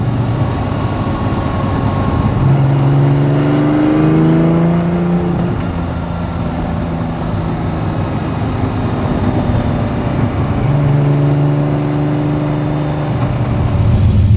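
A Lamborghini Countach engine hums steadily from inside the car, with rising and falling revs as it moves through stop-and-go London traffic; loud, continuous, no voices.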